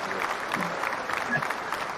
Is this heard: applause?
yes